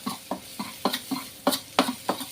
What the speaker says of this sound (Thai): เราผัดให้หอมนะครับ